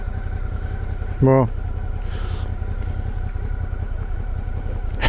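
A motorcycle engine idles steadily with a low rumble at a classic vehicle day in Bordeaux, close and continuous, with a brief spoken word over it.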